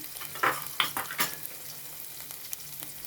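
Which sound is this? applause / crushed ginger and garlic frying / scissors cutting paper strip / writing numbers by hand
crushed ginger and garlic frying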